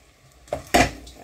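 A spoon or spatula knocks twice against a pan while curried rice is stirred through over very low heat, a light scrape followed by a louder clatter, close and with no talking.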